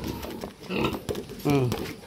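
Pigs at a backyard piggery give short grunts and oinks up close, mixed with a person talking nearby.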